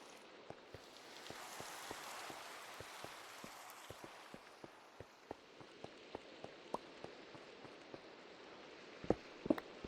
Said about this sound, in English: And it's raining, like usual.